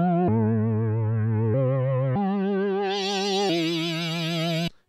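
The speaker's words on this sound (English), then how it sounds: "This is what it sounds like with oscillator pitch going." A Korg DW-8000 synthesizer plays a sustained bright tone with oscillator pitch modulation, giving a fast, even vibrato wobble. The note steps through several pitch changes and ends abruptly, with no voices over it.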